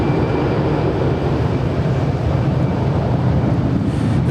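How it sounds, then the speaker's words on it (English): Allegiant Air Airbus A319 jet departing Los Angeles airport, a steady broadband engine roar that holds loud and even throughout with no speech. "This departure is Allegiant Air 546 departing to Bellingham. It's an Airbus A319."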